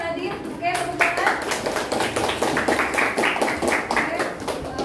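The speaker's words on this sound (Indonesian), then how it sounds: "Oke, tepuk tangan" Students in a classroom clap their hands for group 2 after a presentation, a series of distinct, fairly quick claps from a small group, with a voice speaking briefly at the start.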